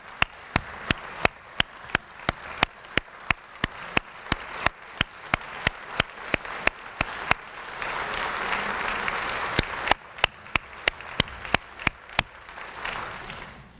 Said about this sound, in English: I ask everyone here to join me in giving Joe a round of applause and thanks